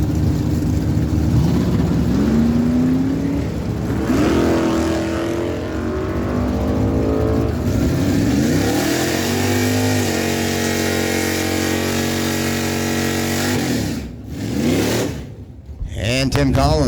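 A 1982 Pontiac Firebird and a Chevrolet Colorado drag racing at a dragway, giving a loud continuous engine roar with rising and falling revs as they accelerate away, then cutting out briefly near the end.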